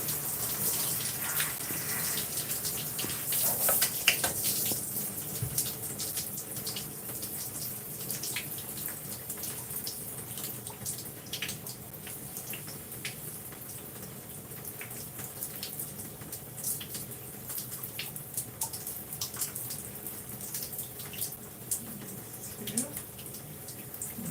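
Water runs steadily and hisses throughout as it rinses conditioner out of hair, with a few soft splashes and faint background noise.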